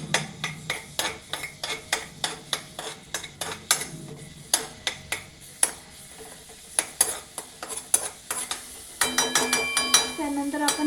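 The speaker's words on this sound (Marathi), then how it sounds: "इथे तेल गरम झाल्याच्या नंतर आपण लसूण टाकणार आहे। त्यानंतर आपण याला थोडंसं हलवून घेऊ।" Garlic in hot oil stirred with a metal utensil while making makka chaat: sharp, irregular clinks and scrapes against the pan over a soft sizzle, growing busier toward the end.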